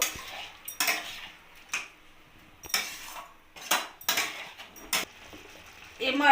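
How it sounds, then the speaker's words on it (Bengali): A spoon stirs yogurt into cauliflower in a kadai over a high flame, giving irregular metallic scrapes and clinks against the pan, spaced about a second apart, close and moderately loud. "এটাকে ভালোভাবে নাড়িয়ে আমি ফুলকপির সাথে মিক্স করে নেবো"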